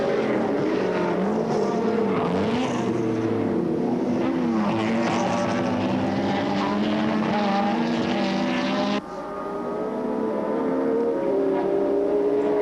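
Touring cars racing at Oran Park in a 1984 championship round, including an old Ford Falcon, their engines roaring loudly and continuously with shifting, overlapping pitches as cars pass, then dropping to a steadier drone.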